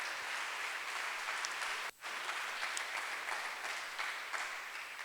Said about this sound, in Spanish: Eso merece un gran aplauso.